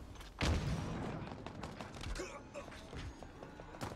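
Gunfire in a Halo multiplayer match, with a heavy shot or blast followed by scattered bursts and thumps under continuous excited voice chat.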